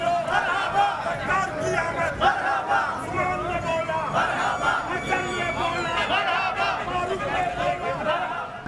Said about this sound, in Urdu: اس نے زبردست نعرے بازی بھی کیا